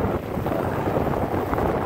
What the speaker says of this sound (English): riding into some pretty heavy wind right now. Seems like it's picking up.